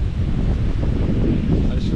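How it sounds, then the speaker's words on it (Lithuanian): Sandstorm wind at the Dead Sea roars steadily into the microphone, a dense, unbroken rumble with no clear gusts or pauses. "Čia chebrytė visiška kažkokia smėlio audra."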